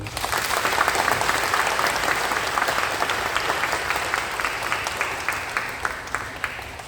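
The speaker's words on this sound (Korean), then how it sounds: "큰 박수 한번" A congregation applauds during a Catholic Mass in a Seoul parish church, steady even clapping from many hands that fills the room and continues throughout at moderate level.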